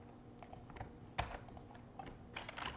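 Quiet keyboard typing, a few scattered keystrokes with one sharper clack, fairly close and soft.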